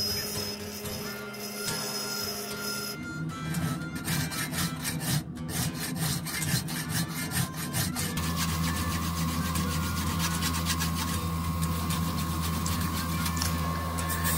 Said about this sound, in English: More grinding and more filing.